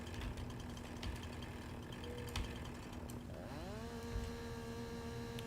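Chainsaw cutting branches in the Farming Simulator 19 video game: a steady engine drone that rises into a higher revving pitch partway through, loud and continuous with no talk.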